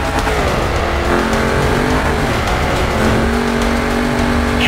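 Century CR6 rally car in the Dakar Desert Rally game, its engine droning loud and continuous with rising and falling revs and some tire noise, close up with no talk.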